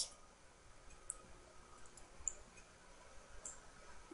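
Computer mouse clicks while adding an image to a Joomla article, a few faint, sparse clicks spaced over a quiet background.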